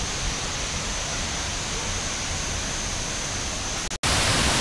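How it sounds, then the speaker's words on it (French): A waterfall near Dalat roars as a dense, constant wash of rushing water heard close up, with a short break in the sound near the end before the roar resumes. "je pense que je pourrais m'approcher encore plus de la cascade"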